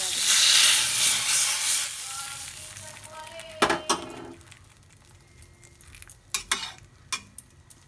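Whole spices tempering in hot mustard oil for a flaxseed and chayote curry, a loud steady sizzle at first that fades, followed by several sharp clinks of a utensil against the pan.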